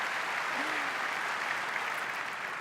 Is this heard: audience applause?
yes